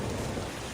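Steady rain in the Zwift cycling video game, a dense continuous hiss that stays loud and unbroken throughout the short stretch.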